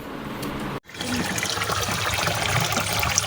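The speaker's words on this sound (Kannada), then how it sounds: "ಯಾವ ರೀತಿಯಾಗಿ ಚರಂಡಿ ಹಾಗೆ ನೀರು ಹರಿತಾ ಇದೆ ಪೈಪ್ನಿಂದ" Dirty sewage water pours steadily out of a pipe in Kalaburagi, a continuous loud rushing and splashing that follows a brief cut at the start and carries on without talk.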